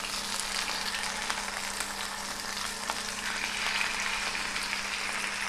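Fish slipped into hot oil sizzles steadily in a pan, a dense even crackling hiss with faint pops and a low hum underneath, heard alone.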